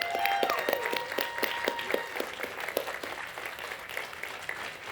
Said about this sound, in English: And another warm welcome and applause for Ramy